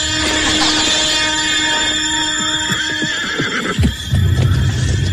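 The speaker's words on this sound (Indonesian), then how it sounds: "Kuda ini sangat bagus." A horse gives a loud, close whinny over a continuous tonal background with faint hoof clops, ending in a lower snorting burst.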